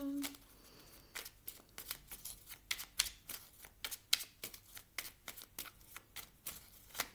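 Tarot cards being shuffled, a quiet run of crisp, rapid riffling and slapping bursts in an uneven rhythm, close by, with no clear speech.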